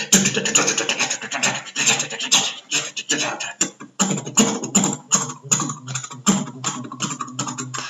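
Repetitive techno track with a steady pulsing beat and dense, buzzy electronic layers, playing loud and continuous throughout with rhythmic dips and hits.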